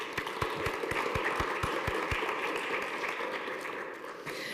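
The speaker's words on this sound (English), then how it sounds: "give a big round of applause to Dean" A room applauds Dean at a community college honors ceremony, with steady crowd clapping throughout and a run of sharp, close individual claps in the first two seconds; no one speaks.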